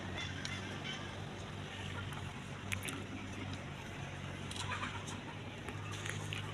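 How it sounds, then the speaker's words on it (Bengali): Chickens at a poultry farm make a faint, dense, steady din of clucking, heard from a distance without pause. "আমরা এখন দেখতে পাচ্ছি আমাদের পাশেই আমাদের মুরগির ফার্ম এই মুরগিগুলো সবগুলো খাঁচায় তোলা হবে"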